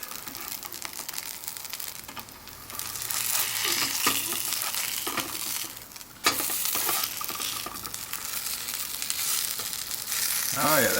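Backpacker potato cakes fry in generous oil over a camp stove outdoors, a steady broadband sizzle running throughout with stirring and scraping, louder in stretches and briefly dipping, no talk.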